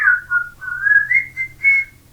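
A short, clear whistled or flute-like tune rises and falls across a few sustained notes, played alone with no talking.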